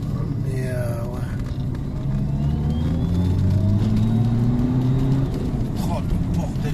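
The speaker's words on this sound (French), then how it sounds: "C'est une voiture de rallye en fait." A Renault Megane 2 RS set up like a rally car drives along a rough road, its engine droning low and steady with rising revs and rattles from inside the cabin.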